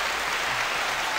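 Canned applause played from a studio soundboard: a brief, steady wash of dense clapping, even in level throughout.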